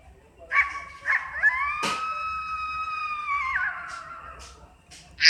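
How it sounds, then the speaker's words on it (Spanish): A wolf gives a long, rising and falling howl, fairly close and clear, with a few short yips and squeaks around it and no talk. "lobo,"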